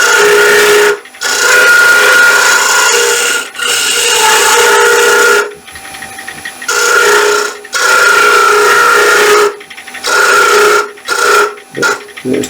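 A tool chatters loudly against a wooden magic wand being shaped on a lathe, long harsh whistling, rasping bursts repeated in rhythmic passes with brief gaps between them, close and loud, no voices.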